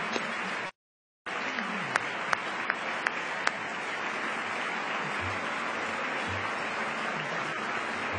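Steady applause fills the House chamber as members stand to honor families during the gavel handover, a broad wash of clapping after a brief dropout near the start.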